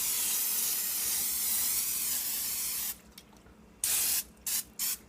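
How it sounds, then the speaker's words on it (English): Cooking spray hisses in a long steady burst onto a pan being greased for honeycomb candy with Lyle's Golden Syrup, then stops and comes back as a few short quick sprays. "And I'm just going to spray."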